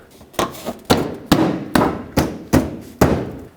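Plastic clips on a 2007-2009 Saturn Aura headlight assembly are pressed home in a series of about seven sharp, evenly spaced snaps and knocks, loud and close.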